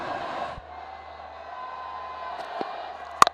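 A cricket crowd at a Lahore Qalandars versus Peshawar Zalmi T20 match makes a steady, distant roar of cheering that holds throughout, with a couple of sharp louder bursts near the end.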